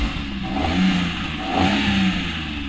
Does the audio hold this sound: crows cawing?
no